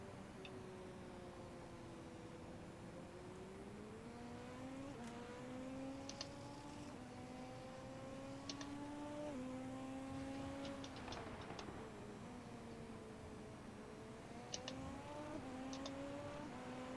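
A Super Formula race car engine laps Interlagos in a racing video game, a steady high whine that climbs through the gears and drops on each shift, with faint ticks over it and no talking.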